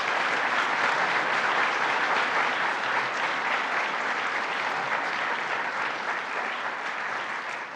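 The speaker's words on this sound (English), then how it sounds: "So let's give them a round of applause." An audience at a New York State budget announcement applauds award winners with dense, sustained clapping that runs the whole time and fades slightly at the end.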